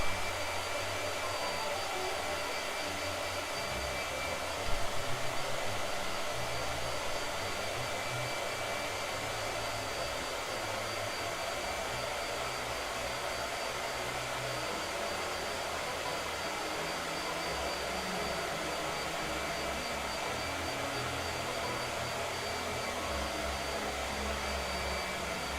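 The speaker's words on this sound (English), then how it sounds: "Blow dryer." A blow dryer runs steadily for the whole stretch, drying orange ink on a painted figure; a continuous loud, broadband whoosh with a low motor hum and one brief bump in level early on.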